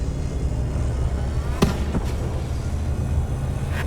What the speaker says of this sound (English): and take these missile hits.